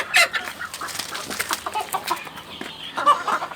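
Karinkozhi chicks and hens on a poultry farm fill the air with close, busy clucking and sharp peeping, the calls coming in quick, uneven bursts with no pause.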